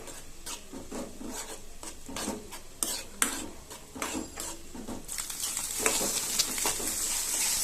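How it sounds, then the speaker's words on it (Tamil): A seasoned egg for restaurant-style chicken noodles is mixed in a pan with a spatula. A rapid run of scraping strokes against the metal comes first, then a louder sizzling wash takes over. The sounds are close, and no one speaks. "இப்போ இதை நல்லா மிக்ஸ் பண்ணி விட்டுக்குவோம்"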